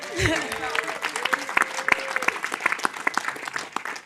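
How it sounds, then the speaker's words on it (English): A conference crowd at a skateboarding summit applauds, sharp claps building into steady clapping that carries through, with a voice speaking briefly at the start. "give her a round of applause"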